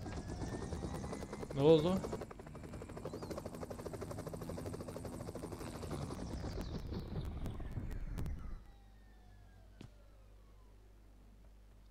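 A helicopter in the video game PUBG Mobile whirs with a steady rotor drone under a player's voice. The noise cuts out abruptly near the end, leaving a faint low hum.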